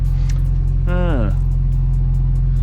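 A Honda Civic EK B16A car engine idles steadily throughout, a constant low rumble, with a brief voice passing over it partway through.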